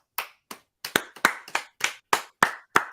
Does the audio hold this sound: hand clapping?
yes